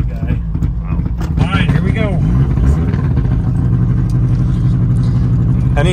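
A modified 1961 Saab 96 with a two-stroke engine and dual exhaust burbles in a loud, steady low rumble close by, while someone talks over it.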